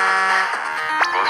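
A video game basketball buzzer, sounding at the end of a quarter, holds a steady electronic tone for over a second, with faint squeaky background noises layered on top.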